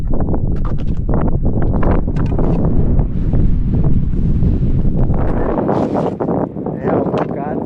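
Strong wind buffets the microphone on a winter climb toward the Planjava peaks at 2394 m, roaring in heavy, uneven gusts with crunching sounds beneath, while a person talks over it.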